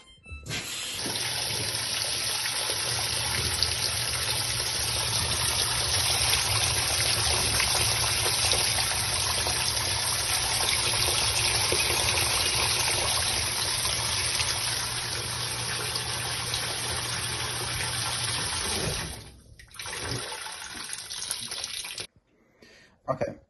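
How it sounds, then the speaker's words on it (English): A washing machine runs a wash cycle with powder laundry detergent in warm water, giving a steady, loud wash of water noise with a low hum for about twenty seconds before the sound drops and stops. "So I'm going to run this through the wash cycle"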